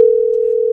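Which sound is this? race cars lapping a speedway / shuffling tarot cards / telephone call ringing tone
telephone call ringing tone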